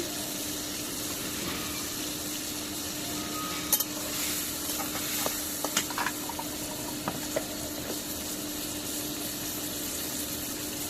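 Ginger garlic spice paste fries and gets stirred in a pan, a soft steady sizzle with scattered scraping clicks from the spoon, close by, with no voices.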